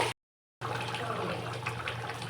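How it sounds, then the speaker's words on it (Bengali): Water pours steadily into a pot of meat and potato curry after a brief silence, a loud, continuous rushing stream with a low hum beneath it. "এরপর আমি জল দিয়ে দেব"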